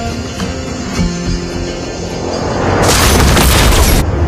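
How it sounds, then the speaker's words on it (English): A turret is destroyed in the Mobile Legends mobile game, setting off a loud, sustained boom that swells over game sounds and stays bright and roaring for about a second before cutting off. "Our turret has been destroyed."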